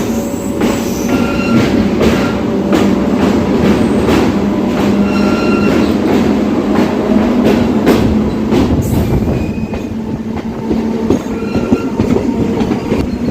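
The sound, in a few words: train running between Secunderabad and Kazipet, picking up speed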